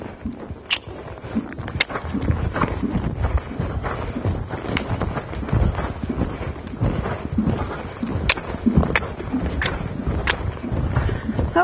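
Horse hooves during a dressage exercise, a steady rhythmic clip-clop of footfalls close by over continuous background noise, with occasional sharp knocks.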